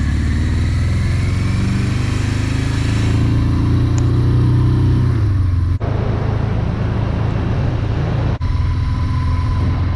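A 1982 Suzuki GS1100G motorcycle with rebuilt carbs on a test ride, its engine droning loud and steady with a falling pitch and wind rush, two brief dips as gears shift, no talk.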